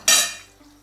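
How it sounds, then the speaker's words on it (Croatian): A spoon stirs chicken pieces with their roasting juices in a pan for a Tuscan-style chicken dish, giving one quick, close scrape and wet shuffle that fades within a second. "Malo sve skupa izmiješati."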